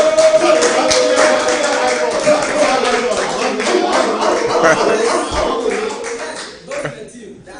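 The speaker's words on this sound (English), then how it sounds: "why don't you give an applause to Hetty?" A small group gives applause for Hetty: scattered, uneven clapping and tapping with people talking over it, tapering off toward the end.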